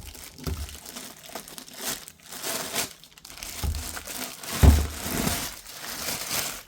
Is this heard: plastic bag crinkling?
yes